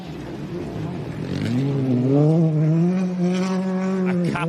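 A rally car on a Queensland forest stage drives down a hill, its engine note climbing and holding a steady high drone as it nears, loud and close, with a brief tyre or gravel scrape near the end.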